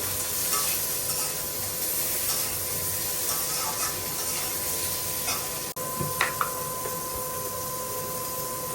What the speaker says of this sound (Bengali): লবণটা দিয়ে একটু পটলটা ভেজে নেই